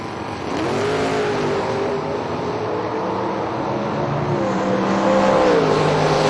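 Drag race launch between a 1970 Mercury Cougar and a 1997 Mustang at a drag strip, loud engines roaring and rising in pitch as the cars pull away, sustained for several seconds.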